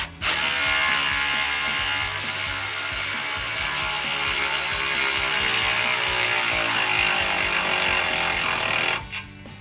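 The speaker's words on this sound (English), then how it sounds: "Okay, and then tighten up the last rear clamp." A ratchet tightens the last rear clamp on an MBRP Armor Lite single exhaust system fitted to a 2019-2023 Ford Ranger. The pawl gives a fast, continuous clicking for about nine seconds, close and clear, with no talk.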